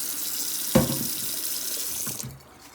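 Tap water runs steadily into a pot to measure out water for cooking rice in a home kitchen, a continuous splashing rush with a brief knock partway through before the flow cuts off.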